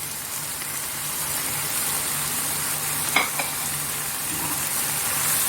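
Caisim greens and scrambled egg stir-fried in a wok for beef kwetiau goreng, an even close sizzle with a brief spatula clank partway through.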